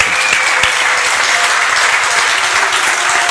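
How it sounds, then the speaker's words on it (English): Dense, loud applause from an audience at an art exhibition opening, continuous and even clapping close by for a few seconds. "Let's give them a very big applause."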